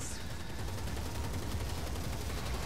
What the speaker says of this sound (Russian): А тут такая стрельба началась.